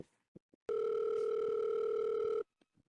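A phone call ringing out over speaker, one sustained electronic ring tone of nearly two seconds, clean and moderately loud, with faint clicks around it.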